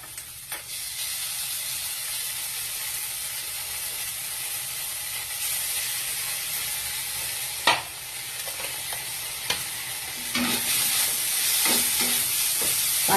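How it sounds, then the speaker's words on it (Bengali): Fried egg being stirred with tomato sauce in a pan sizzles steadily, with a few sharp scraping clicks of the spatula against the metal, the frying hiss swelling louder toward the end. "টমেটাম সস দিয়ে নেড়ে চেড়ে নিয়ে"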